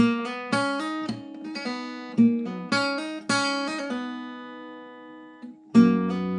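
A clean guitar picks out a gentle melody note by note, with plucked notes ringing over an open string, quiet and close, then a final plucked note.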